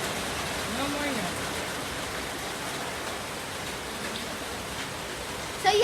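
Rain falls steadily as a soft, even hiss of droplets with no distinct pattern, moderately quiet throughout, with a brief louder bump right at the end.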